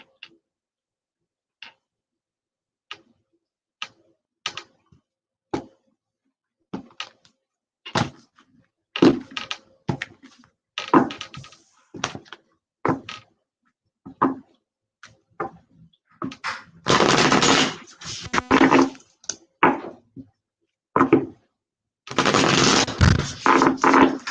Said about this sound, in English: All right, so quick little shuffle here.